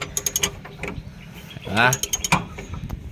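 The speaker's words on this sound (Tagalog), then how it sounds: "Oh, kita mo tumutunog parang torque wrench, no?" A tool on an air suspension repair clicks in quick ratcheting bursts like a torque wrench, close and fairly quiet, with a longer whirring ratchet run in the middle.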